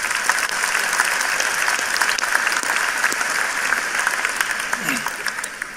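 Applause at a 2019 high school graduation ceremony in an auditorium, a dense, sustained crowd clapping that fills the space evenly from start to finish.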